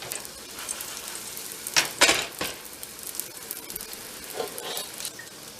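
Green onion cakes fry in a pan with a soft, continuous sizzle, punctuated by a few louder crackles and scraping handling sounds partway through, with no talk.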